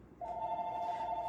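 A telephone rings in a quiet craft room, one steady electronic bell tone starting after a brief pause and holding continuously, moderately loud and close.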